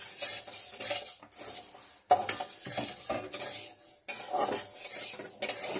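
Moong dal is stirred and dry-fried in a pan: repeated close scraping strokes of a utensil against the metal with a faint crackle, no talking.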